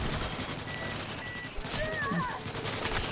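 Video game gunfire comes as rapid bursts of shots in a noisy firefight, fairly loud and dense, with brief higher electronic tones mixed in.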